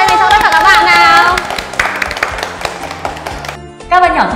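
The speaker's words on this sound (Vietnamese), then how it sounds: "Và một tràng vỗ tay này cho tất cả các bạn nào" Children's program audience giving a round of applause, clapping rising under a presenter's voice, fairly loud, then thinning out near the end.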